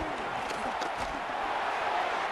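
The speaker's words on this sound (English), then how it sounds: "the crowd getting into it as we come up on a big 3rd down" An NFL stadium crowd at a Tennessee Titans at Chicago Bears football game roars steadily, a dense, continuous wash of cheering and shouting with no breaks.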